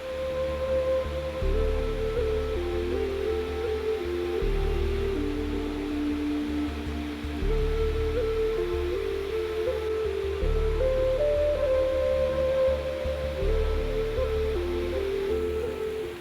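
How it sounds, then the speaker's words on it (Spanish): Waterfall from the Cunca stream cascading over rocky crags in three fans before reaching the Duero river, heard as a loud, continuous rushing roar with a low rumbling undertone and no voices. "Las cascadas son un torrente de agua que proviene del arroyo de la Cunca, y al caer aquí sobre estos peñascos se forman 3 abanicos"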